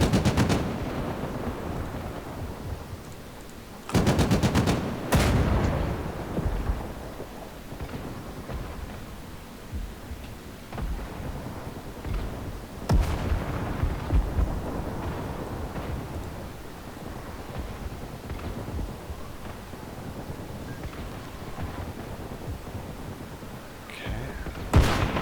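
BTR armored vehicles lay down covering fire in Armored Brigade II, with loud machine-gun bursts and gunshots, including a sharp cluster of rapid shots early and scattered reports later, over a rumbling battlefield background.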